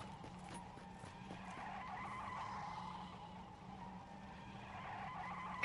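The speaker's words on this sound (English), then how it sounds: "Who is doing donuts up on PS4?" A car doing donuts in PUBG on PS4, with continuous tire skidding and squealing over a steady engine drone, moderately loud and unbroken for several seconds.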